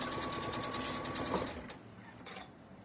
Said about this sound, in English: use my serger as well